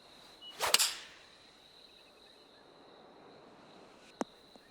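A golf club tee shot on a par 3 hole in the video game PGA TOUR 2K25 gives one crisp, sharp crack followed by a brief whoosh, then near silence broken by a faint tick, over a quiet insect-like ambient hum.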